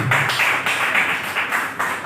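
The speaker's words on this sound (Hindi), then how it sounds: "आपकी तालियां बहुत अच्छी।" Applause from an audience at an RTI Act anniversary event, a steady patter of many hands clapping in uneven bursts, fairly close and filling the whole moment without speech.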